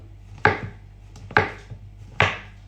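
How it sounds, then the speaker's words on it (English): Knife slicing bananas into thin slices on a cutting board, three crisp, even chops about a second apart, each one sharp and close. "And just slice them into thin slices, okay?"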